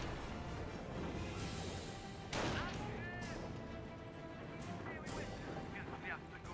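An artillery barrage in the Company of Heroes war game lands as two heavy booming impacts a few seconds apart, set against continuous battlefield rumble, with voices in the mix.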